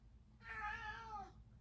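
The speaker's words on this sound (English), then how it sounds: "the cat just wanted some water" A pet cat gives a single drawn-out meow, close and fairly loud, rising and then falling over about a second, with a low background hum and no talking.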